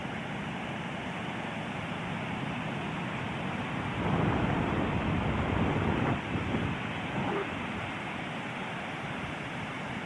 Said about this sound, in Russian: Вот он, океан бушующий сегодня.